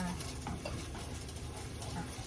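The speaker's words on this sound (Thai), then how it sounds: "นุ้ยก็คั่วกะทินะ เติมกะทิแล้วก็คั่วไปเรื่อยๆ" Coconut milk stirred as it cooks in a pan, with a faint, steady hiss and soft scraping from the spatula, quiet and close.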